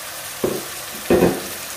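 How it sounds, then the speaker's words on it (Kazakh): Carrots fry with onions in a pan for mash pilaf, with two short bursts of sizzling and stirring rising over a steady low hiss. "Енді жуа барлығы қуырылғаннан кейін жақсылап үстіне сәбізімізді турап қосамыз."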